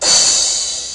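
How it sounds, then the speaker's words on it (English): A single crash cymbal sample in FL Studio rings out bright and hissy, then slowly fades over about a second, alone with no talking. "Your crashes. They sound like this."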